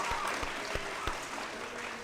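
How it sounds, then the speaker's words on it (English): Audience applause at an 8th grade middle school commencement ceremony, a faint, steady wash of clapping from a crowd with a few sharper claps standing out, somewhat distant. "Let's give a round of applause."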